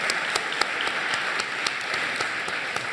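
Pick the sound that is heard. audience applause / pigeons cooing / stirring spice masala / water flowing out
audience applause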